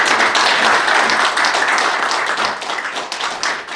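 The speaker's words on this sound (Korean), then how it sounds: "박수 한번 주세요." Audience at a Korean general assembly meeting gives a round of clapping, a loud, close, steady patter of many hands that keeps going for several seconds without talk.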